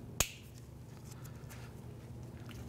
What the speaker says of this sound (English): trim that zip tie.